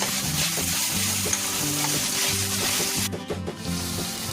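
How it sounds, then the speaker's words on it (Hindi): Onions sautéing and sizzling in a pan for a corn pulao, a steady loud frying hiss with stirring, near and continuous, with background music running underneath and no talking. "अनियन को हम अच्छे से सौटे कर लेते हैं।"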